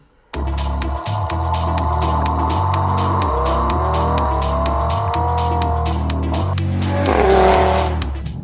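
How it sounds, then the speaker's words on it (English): 2017 Audi TT RS engine revving hard toward the red line, a loud, continuous roar with pitch climbing through repeated gear pulls and a raspy surge at the end. "an engine note that just gets better and better as you approach the red line"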